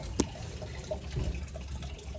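Soft trickle of water from a farm pipe filling a tank with low pressure, quiet and continuous, with a brief sharp knock near the start.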